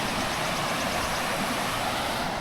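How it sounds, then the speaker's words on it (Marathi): A river flowing below a hillside near a village, heard as a steady broadband rush of water, continuous and fairly loud with no other sounds. "आणि खाली वाहते नदी."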